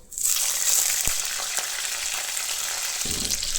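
Pieces of bitter gourd dropped into hot oil, hissing and sizzling loudly and steadily up close, with a few soft stirring knocks from the pan and no talking.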